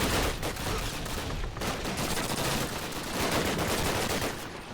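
Gunfire in the World War II shooter Call of Duty: United Offensive, a dense, continuous run of rifle and machine-gun shots with rapid bursts over several seconds, loud and sustained with no talk.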